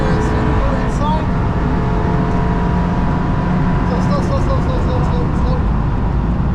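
A car engine drones loud and steady through a fast lap of the Nurburgring, with continuous road and wind roar and shifting engine tones as the throttle stays open, and a voice talks over it.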